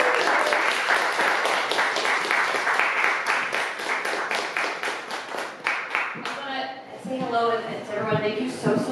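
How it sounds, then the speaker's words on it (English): An audience at a fashion policy panel discussion claps steadily for several seconds, then the applause thins out as a voice starts speaking. "So let's have a round of applause"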